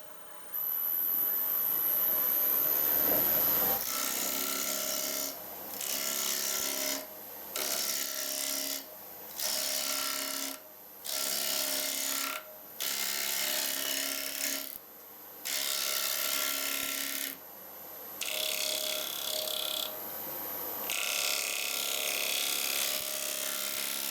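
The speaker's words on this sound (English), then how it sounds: "So I'll show you this with the gouge" Wood-turning gouge cutting a banana wood bowl on a lathe, a steady, loud scraping hiss over the spinning motor hum, broken by short regular pauses as the tool lifts off and re-engages.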